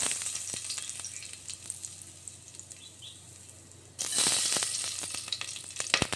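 Whole cinnamon and cloves frying in hot ghee and oil, a steady sizzle that swells sharply louder partway through, with clicks and pops throughout and no talking.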